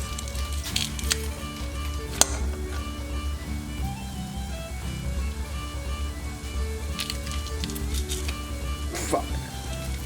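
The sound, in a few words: garlic and onions sweating in a pan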